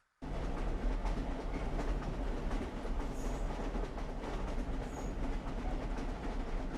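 A train rolls steadily through the Red Dead Redemption game world, a continuous rumble with faint wheel clatter that starts abruptly and runs without pause, with no voices.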